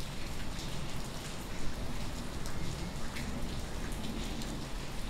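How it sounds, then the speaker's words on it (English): Heavy rain pours onto rooftops and muddy earth in Mask of the Plague Doctor, a dense, unbroken hiss with scattered sharper drop impacts, loud and steady throughout with no voices. "The gates fall quiet, replaced by the noise of heavier rains upon rooftops and muddied earth."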